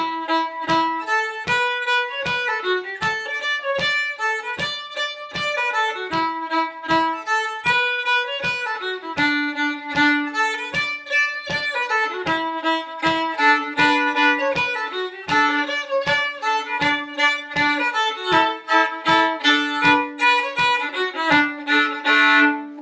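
A fiddle plays a lively tune in a steady shuffle bowing pattern, with crisp, rhythmic strokes and clear melodic notes running continuously and alone.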